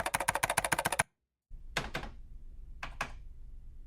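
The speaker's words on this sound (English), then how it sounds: "I'm gonna search for computer keyboard typing, and here we go" Rapid computer keyboard typing clatters in a dense, even burst for about a second, then stops; after a pause, a few isolated key strikes and short bursts follow at intervals.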